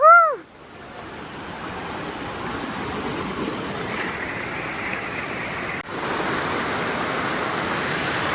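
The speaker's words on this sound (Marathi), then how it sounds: "हे पाण्याचा फ्लो बघतोयस का भाई" Water pours steadily down the Kachale waterstep waterfall, a continuous close, loud rushing roar with no break and no speech over it.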